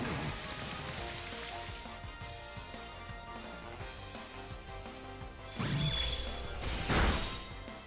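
Rain Dance in the Pokémon Scarlet video game, a dense hiss of falling rain layered over battle music, building to a louder rushing burst near the end.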